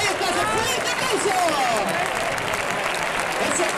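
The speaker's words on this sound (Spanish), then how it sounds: "¡Ese fuerte aplauso!" Crowd at a bull-leaping contest in Gandia applauding steadily, a dense, loud roar of clapping with cheering, while an announcer's voice carries over it.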